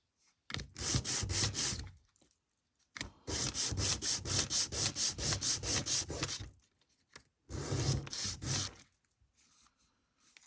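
A hand saw cuts a thin slice of wood for a doll house kitchen piece in three bursts of quick, rhythmic back-and-forth rasping strokes separated by short pauses, close and clear.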